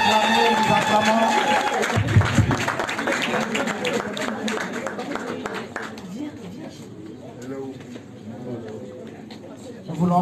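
A wedding congregation in a church applauds and cheers in acclaim of God, a dense crowd roar with clapping and voices that stays loud, then eases to a lower murmur before swelling again at the end.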